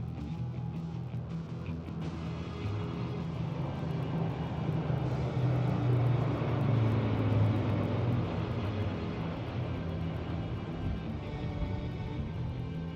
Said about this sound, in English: Flanking it are two C-295 aircraft, flown by Group Captain Shivam P.K. Vasan